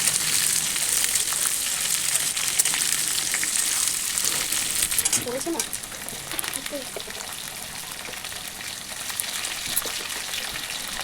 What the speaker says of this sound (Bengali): দেখো একদম গরম তেলে আমগুলোকে দিয়ে দিয়েছি। তো আমগুলোকে দিয়ে বেশ কিছুক্ষণ একটু নাড়াচাড়া করে নিতে হবে।